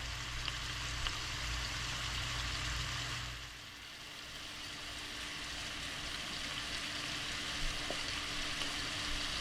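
Chicken divan mixture seasoned with garlic, Lawry's, pepper and paprika sizzling steadily in a pan, a soft, even frying hiss that dips briefly midway and then carries on.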